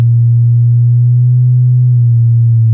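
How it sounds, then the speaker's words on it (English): Pure synthesizer sine wave held as one steady, loud low tone for nearly three seconds with no attack or variation, alone without any voice. "so that's the sine wave"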